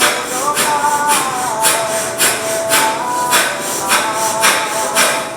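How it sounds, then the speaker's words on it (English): Rapid, sharp breath-of-fire yoga breathing through the nose, a steady run of about a dozen forceful diaphragmatic exhales pulsing evenly and close up, with no talk. "it's sharp diaphragmatic breathing in and out through your nose"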